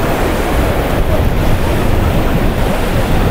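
Strong wind buffets the microphone at Ponta Negra beach in Natal at low tide, a steady loud roar mixed with surf and no pauses.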